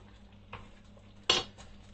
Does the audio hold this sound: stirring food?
yes